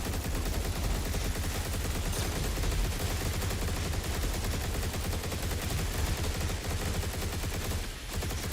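Gunfire in an action video game, a dense, sustained volley of rapid automatic shots rattling on without pause, loud and close, with a brief dip near the end.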